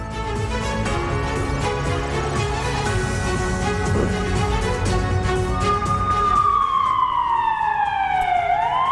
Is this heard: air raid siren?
yes